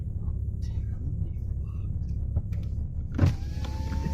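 A Nissan Pulsar GTiR power window motor whirs steadily inside the car, over a low engine rumble, with a brief thump partway through.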